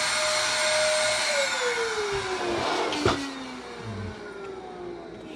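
A vacuum cleaner hoses debris out of the inside of a Collings C100 Deluxe acoustic guitar, a loud steady whine whose pitch sags as the nozzle moves, with a brief knock partway through.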